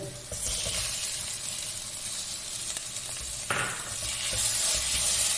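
Chopped tomato hits a hot frying pan, and the oil bursts into a loud, sustained sizzle with hissing surges and occasional stirring scrapes, up close and with no talking.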